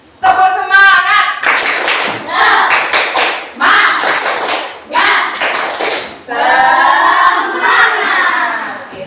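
A group of schoolchildren performs a rhythmic 'tepuk semangat' cheer clap, with bursts of patterned clapping mixed with shouted chanting voices, loud and close in a classroom setting.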